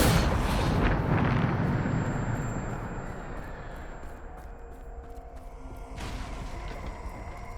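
Bombarda spell blasts in the video game Hogwarts Legacy: a loud, continuous wash of rumbling explosions with a heavy low end, easing slightly midway before a fresh burst near the end, no voices.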